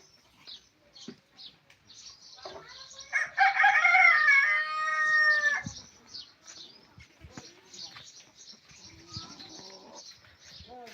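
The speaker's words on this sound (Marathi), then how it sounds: "कोंबडे आहेत गावठी कोंबडे" A village rooster crows loudly nearby in one long, wavering call, with faint chirps and scattered background noises before and after.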